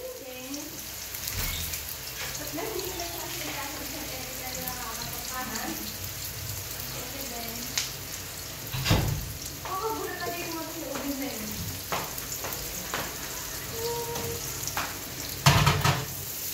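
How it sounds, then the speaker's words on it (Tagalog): Garlic and onion sautéing in a pan as the base for Filipino sopas, a steady sizzle with occasional scraping stirs and clatter, a voice talking intermittently over it. "Ayan, imekos-mekos lang natin ang ating bawang sibuyas."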